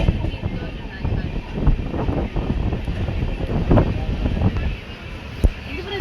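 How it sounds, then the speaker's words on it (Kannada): Wind rushes in through an open window of a moving train bound for Bangalore, a steady buffeting roar with occasional gusty thumps against the microphone, while people talk in the background. "ಗಾಳಿ ಬರ್ಪುಂಡು ಲಾಯ್ಕ್ ಮಿತ್ತದ ಫ್ಲೋರ್"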